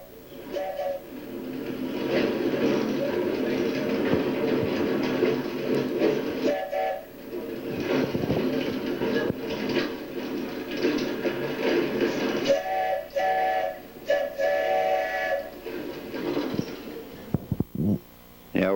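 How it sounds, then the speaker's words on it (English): A heavy freight train climbing about a 3% grade rumbles and grinds steadily, with a long horn-like tone rising over the noise; the sound fades and breaks up near the end. "This is where the freight starts to grind when he's pulling a heavy train up here."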